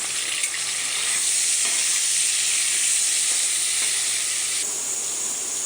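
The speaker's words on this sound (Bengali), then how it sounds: "হালকা ভাজা হয়ে গেছে আমার কচুটা। এবার টমাটোরগুলো দিয়ে দিলাম।" Taro and chopped tomatoes fry in a pan with a loud, steady hissing sizzle, and the sound shifts briefly as the tomatoes go in. No one speaks.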